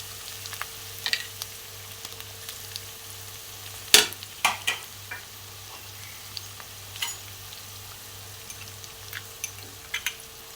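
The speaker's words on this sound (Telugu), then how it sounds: "ఇప్పుడు మనం చికెన్ కర్రీ ఉడికించుకుందాం." Chicken curry fries in a pan with a low continuous sizzle and a steady hum beneath, broken by scattered clicks and scraping stirs, close and without talk.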